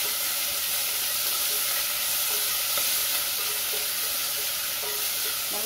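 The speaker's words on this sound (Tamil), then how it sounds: "வெங்காயம் நல்லா வதங்கணும்" Onions sizzle steadily in hot oil for bean kuzhambu (mochai kottai), a continuous loud frying hiss with occasional light stirring scrapes and no talking.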